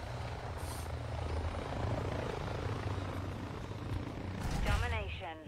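Helicopter rotor roar in Call of Duty, a Domination match, as a dense, steady thrumming drone that swells slightly near the end, with voices talking over it.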